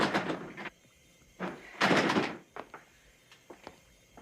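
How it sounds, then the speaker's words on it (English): A door being opened in a science-fiction TV drama scene, heard as several heavy thunks and a sliding rumble, loud and close, with a few lighter knocks after it and no voices. "Open the door!"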